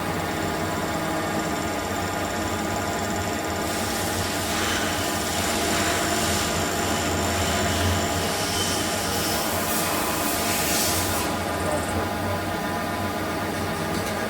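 A metal lathe bores out the chuck jaws with the spindle speed raised, making a steady, loud, continuous mechanical whine and hum with high-pitched cutting noise that swells and fades throughout.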